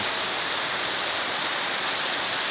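Heavy evening rain comes down in a constant, even hiss. The downpour is close and unbroken, and nobody speaks.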